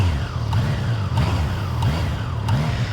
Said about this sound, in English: Really nice little exhaust note out of this thing.